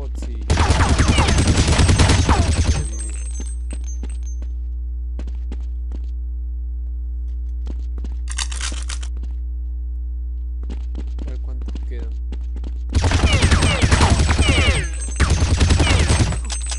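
Gunfire aimed at bots in a Counter-Strike 1.6 Left 4 Dead survival mod, two loud sustained bursts of automatic fire at the start and end, separated by a long quieter stretch with a short burst in the middle.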